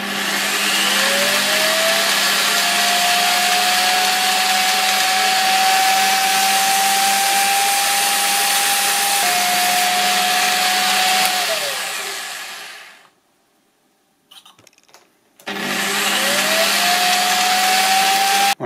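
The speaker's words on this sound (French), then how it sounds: "Et je vais venir faire tourner mon chim avec la perceuse et venir le poncer" A power drill whirs at high speed for about twelve seconds, spinning a chim part to sand it to diameter while building a fishing rod, winds down and stops, then starts spinning again after a short pause.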